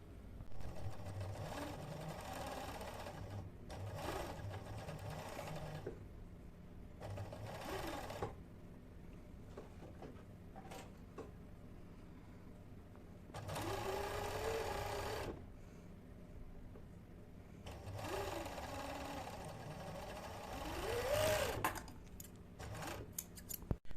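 A sewing machine stitches seams on a double fleece hat in several running bursts, whirring steadily with pauses between passes and faint handling noises in the gaps.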